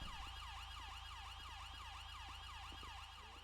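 British police car siren in the game GTA V FiveM, a fast repeating wail sweeping up and down in a steady rhythm, faint and continuous over a low engine hum.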